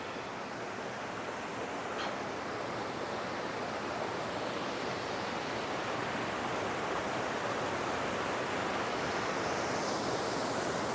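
A waterfall on the Honey Creek Loop Trail, a steady broadband rush of falling water that holds constant throughout without any talk.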